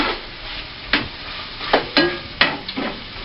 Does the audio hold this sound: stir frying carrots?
yes